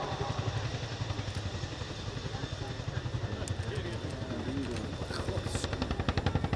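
Boeing Chinook HC.6 tandem-rotor helicopter of the Royal Air Force gliding down into a hover during an airshow role demo, a steady rapid rotor thudding at a distance, with a voice talking over it.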